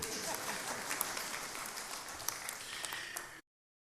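A crowd at a church service applauds, a dense, even wash of clapping that continues steadily for a few seconds before cutting off abruptly.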